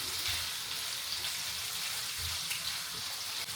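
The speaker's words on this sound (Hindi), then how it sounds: "लहसुन अदरक के साथ मैं फ्राई करूंगी" Marinated chicken frying with garlic and ginger in a pan, giving a steady, close hiss and crackle of sizzling oil that holds even and continuous throughout, with no talking.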